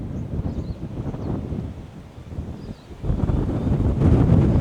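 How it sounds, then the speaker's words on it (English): Strong wind buffets the microphone in a continuous low roar that swells louder toward the end, while a DJI drone flies outdoors. "Oh, it's so windy."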